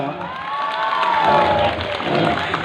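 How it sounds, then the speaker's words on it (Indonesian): Audience at a humorous Sundanese religious lecture cheers and applauds, a steady crowd roar of clapping and voices with whistle-like whoops rising over it, loud and sustained throughout. "tepuk tangan dong"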